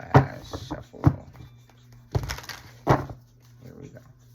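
A tarot card deck being shuffled in a few separate bursts of riffling and tapping, close and moderately quiet, with short pauses between them.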